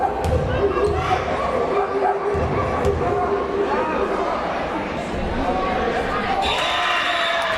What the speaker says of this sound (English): Despite the hoots and hollers from the crowd, she calmly drains it